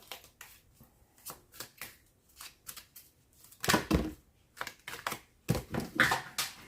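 Tarot cards are shuffled and drawn in a series of soft riffling clicks and flicks, sparse at first and then louder in a couple of close bursts.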